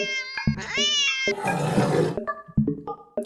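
A video game cat lets out a series of short, strained meows and a growling yowl, close and loud, with brief harmonic cries in quick succession.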